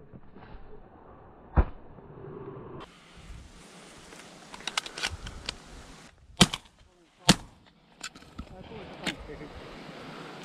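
Shotgun reports during a pigeon hunt in the Finnish outdoors, several sharp, loud bangs at irregular intervals spread over a quiet stretch with faint ambient noise and a few softer knocks in between.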